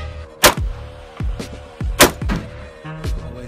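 Gunshots at shooting practice: several sharp, loud reports spaced irregularly across a few seconds, each followed by a short echoing decay, with low background noise between them.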